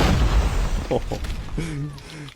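A grenade goes off in Call of Duty: Mobile, a loud low boom at the start that rumbles away, with a voice speaking over the fading blast.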